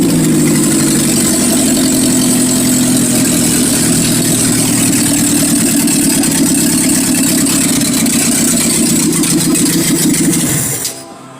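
A Chevette engine installed in a 1957 Chevy runs steadily at a close, loud idle, its even mechanical drone holding for about ten seconds before cutting off abruptly.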